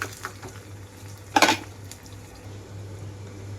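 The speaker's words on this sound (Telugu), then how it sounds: "ఈ తాలింపు అంతా కూడా కర్రీలో కలిపేసుకుంటున్నాను" A spoon clatters once against a pan as golden tempering is stirred into a brinjal and amaranth leaf curry, a brief scraping knock over a steady low hum, otherwise quiet.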